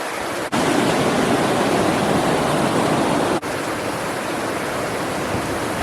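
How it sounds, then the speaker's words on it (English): Several waterfalls spill down a hillside into the Otira River in a valley of Arthur's Pass National Park, a steady broadband rushing roar that fills the scene, loud and unbroken apart from two brief dips. "there's a couple of waterfalls coming down the side of the hill"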